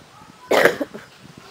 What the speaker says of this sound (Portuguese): Tô com essa tosse infernal.